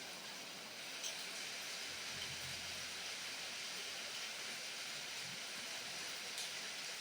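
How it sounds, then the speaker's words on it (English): Steady rain falling outdoors, a continuous even hiss with a faint low rumble underneath, no voices. "I just love the sound of the rain."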